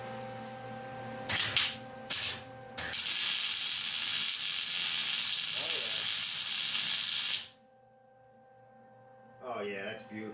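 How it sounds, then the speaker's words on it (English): Stick welding at high current on a Yard Machines snowblower with an 8 hp Tecumseh engine, a loud steady crackling hiss holding for several seconds after a few short bursts, then stopping abruptly. "I'm just going to crank the current up, and we're going to try to, you know, soak it with as much weld as I can."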